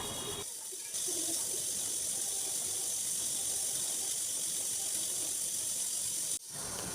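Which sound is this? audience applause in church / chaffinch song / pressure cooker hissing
pressure cooker hissing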